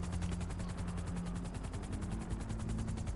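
A helicopter in the video game GTA V keeps up a loud, steady rotor chop with rapid rhythmic blade pulses and a low engine drone throughout.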